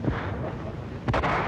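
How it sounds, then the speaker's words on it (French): Gunfire erupts at the entrance of Notre-Dame cathedral in Paris as a crowd gathers, a dense rumbling roar of shots and noise with a sharp, louder burst near the end. "Mais à son entrée dans la cathédrale, des tirs éclatent."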